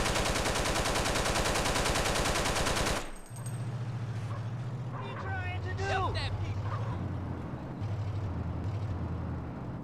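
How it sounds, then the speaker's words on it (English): Replaced weapon sounds in GTA San Andreas: a loud, rapid burst of automatic gunfire rattles for about three seconds, then cuts off, leaving a low vehicle engine hum. "Yeah, new sounds. I replaced weapon sounds."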